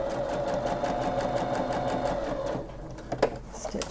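A sewing machine runs steadily for a few seconds, stitching down an invisible zipper, then stops, leaving a few small clicks and handling sounds.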